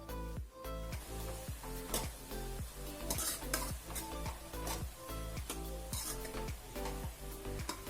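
Finely chopped tomatoes sautéing in a pan for chicken curry, a steady close sizzle with regular scraping strokes of a utensil against the pan.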